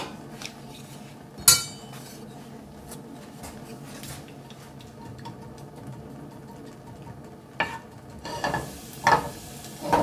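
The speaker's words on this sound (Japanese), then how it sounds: "フライパンに油を入れて、最初にニンニク、" Garlic frying in oil in a pan in a chef's kitchen, a soft steady sizzle with a few sharp clinks of a utensil against the pan, quiet and close.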